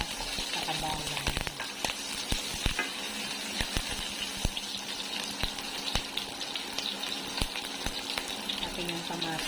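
Onion and garlic sautéing in a pan for string beans with moringa pods, a steady close sizzle with scattered clicks of stirring utensils, with a voice talking over it at times.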